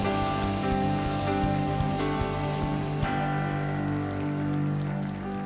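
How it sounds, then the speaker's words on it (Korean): A church congregation at Irvine Onnuri Church claps at a Christmas Eve Sunday worship service, a steady wash of applause mixed with sustained music from the band or organ playing underneath. "우리 가장 큰 박수로 영광 돌리겠습니다"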